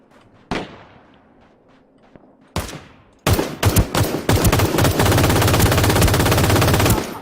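Two sharp single shots ring out and decay, then sustained rapid automatic gunfire rattles on loudly and continuously, with a dense, game-like crackle, from the shooter game Ring of Elysium in a snowy mountain setting.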